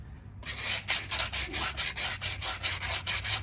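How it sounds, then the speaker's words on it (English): Sandpaper scrubbing a front wheel hub on a 2003 Chevy Silverado 2WD, a loud close rhythmic back-and-forth rasp with even strokes about three per second, no talking. "So I'm gonna get some sandpaper, clean that up."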